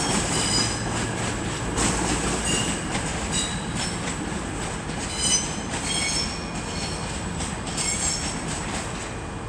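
Class 220 train passing through Edinburgh Waverley station over the throat toward Glasgow Central, a steady loud rumble of wheels and engine with squealing and rail clicks throughout, close by, no talking.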